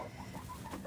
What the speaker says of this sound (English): Okay, you broody hen.